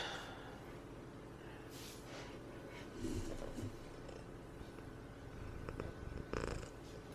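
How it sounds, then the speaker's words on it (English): A cat purring close to the microphone, a low continuous rumble throughout with a few louder swells and snuffly breaths near the middle and end. "There's a cat here over by the microphone right now."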